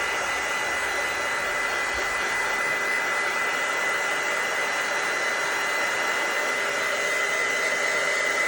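Hair dryer blowing steadily to dry vinyl on a tumbler, a loud, unbroken whooshing roar close by that holds without pause throughout, with no voices.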